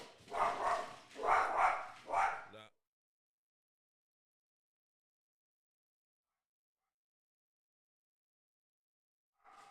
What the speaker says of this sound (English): Now, excuse my damn dog, Milo.